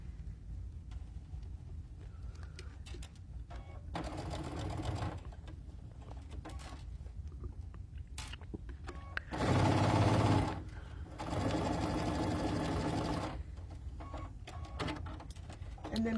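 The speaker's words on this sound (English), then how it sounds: "I'm stitching using a 1/4 inch seam" Sewing machine stitching a quarter-inch quilt seam, a steady mechanical whir heard in short runs at moderate level, with a louder, denser burst near the middle and another sustained run after it.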